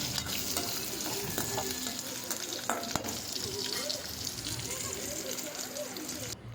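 Chopped large onion frying in a pan, a steady broadband sizzle with stirring scrapes running throughout, close and continuous, with faint voices underneath.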